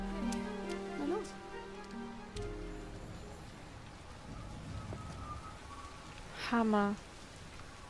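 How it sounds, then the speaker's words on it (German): Steady rain patters across a surface in the game Everybody's Gone to the Rapture, a constant wash running beneath a voice that speaks over much of it. "Es regnet sogar in diesem Moment."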